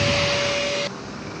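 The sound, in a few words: air blower running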